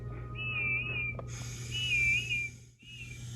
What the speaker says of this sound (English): at last, she heard Whiff's funny whistle